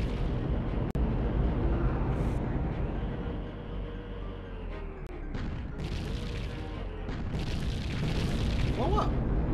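A large missile explodes in the Body Harvest video game, a heavy sustained low rumbling blast that swells and fades, followed by bursts of crackling debris and a voice talking faintly underneath.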